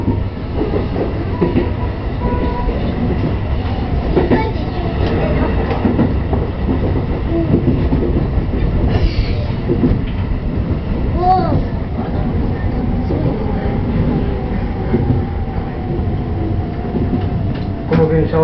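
Shin-Keisei Line electric train running on rails between Motoyama and Kunugiyama in 2009, a steady loud rolling rumble with rail clatter and a brief squeal, heard from the front of the train with faint voices in the background.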